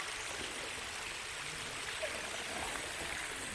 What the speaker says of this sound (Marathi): आपण पाण्याचा वाहता झरा आपण इथे बघूया.